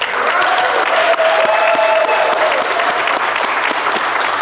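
Steady, full applause from a ceremony audience for fire academy graduates, loud and continuous with a few cheers mixed into the crowd.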